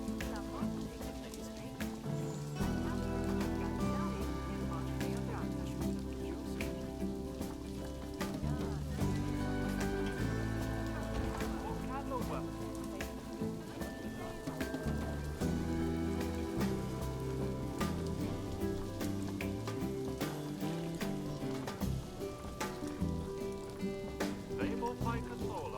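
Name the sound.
rain falling in the video game Planet Zoo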